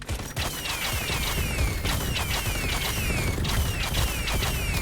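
Repeated explosions in the Western shooter video game Far Far West, rapid bursts of crackling blasts and gunfire in quick succession, loud and continuous with sharp metallic streaks.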